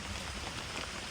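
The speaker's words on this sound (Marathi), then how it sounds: "फक्त पाऊस नव्हता पाहिजे ना जेवतानी." Rain falls on an open paddy field during rice transplanting, a soft, even hiss of drops with no other sound standing out.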